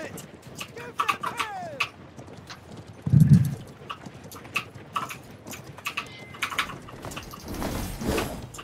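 Video game horse hooves clip-clop in an uneven rhythm, joined by scattered clicks and a brief low rumble, with a noisy swell near the end.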